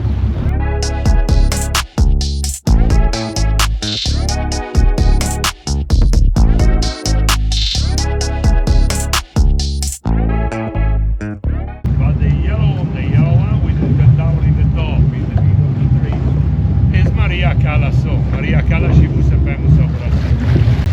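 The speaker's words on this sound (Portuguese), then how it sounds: "o barco começou a sair aqui" A tour boat pulls away on Lake Garda near Peschiera and Sirmione, its engine droning low and steady beneath strong wind buffeting the microphone, after a stretch of loud music at the start.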